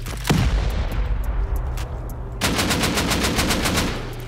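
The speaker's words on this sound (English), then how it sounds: "gonna send off the rest of my rockets in here and finish off with C4" Rockets and C4 detonate during a video game raid, a sharp nearby blast followed by rumbling, then a rapid string of repeated loud bangs and crackles.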